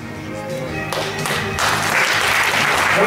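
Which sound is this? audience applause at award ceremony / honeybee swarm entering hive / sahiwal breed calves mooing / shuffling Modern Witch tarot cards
audience applause at award ceremony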